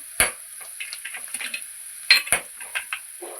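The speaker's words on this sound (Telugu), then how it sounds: "పచ్చిమిరపకాయలు అప్పుడప్పుడు ఇలా మధ్యలో కలపండి" Green chillies frying in hot oil in a pan, stirred now and then, with a faint sizzle broken by sharp metallic clinks and scrapes of the spoon against the pan.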